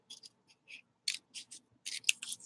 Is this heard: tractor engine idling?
no